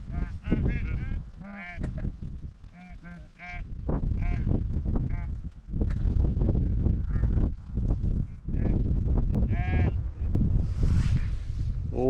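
Many sheep bleat over and over, close by on Offa's Dyke Path, their calls overlapping in a noisy flock with a steady rumble of movement underneath.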